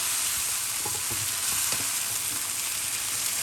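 Pomfret fish being stir-fried with celery in a hot pan, a loud continuous sizzle with scraping stirs and a few clinks of a utensil against the pan.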